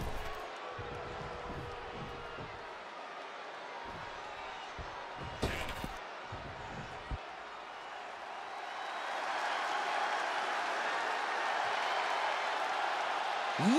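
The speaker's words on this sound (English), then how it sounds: "Listen to that crowd!" A virtual arena crowd in the wrestling game WWE 2K24 rumbles faintly behind thuds and a voice, then swells into a broad, sustained roar during the second half.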